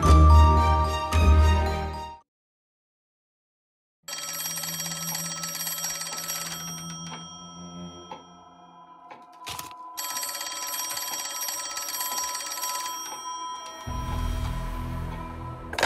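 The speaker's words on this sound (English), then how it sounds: "It started with a phone call." An old-style telephone bell rings in bright, metallic bursts, loud and close, broken by a sudden silence and followed by shimmering tones and a deep rumble, with no voices.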